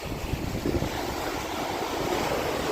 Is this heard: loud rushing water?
yes